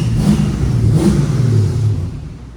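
A 1977 Chevrolet Camaro Z28 with a 350 V8 and four-speed runs loud and close, its rumbling engine holding a steady revving drone before easing down toward the end.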